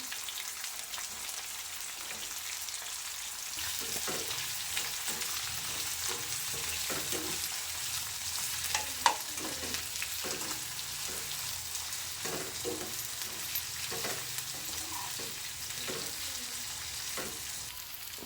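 Chopped onion, potato and carrot sizzle steadily in a pan for a pilaf, a constant broad frying hiss with repeated scraping stirs throughout, close and alone with no talking.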